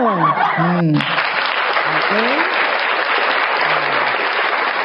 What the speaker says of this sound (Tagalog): Bigyan natin, palakpak tayo.